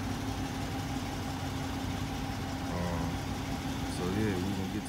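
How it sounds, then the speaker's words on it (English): A 2011 Dodge Charger R/T on a test drive, its engine a steady low hum heard from inside the car, with faint muffled voices and a few brief tonal squeaks. "we're gonna do a quick test drive just so I can see the differences"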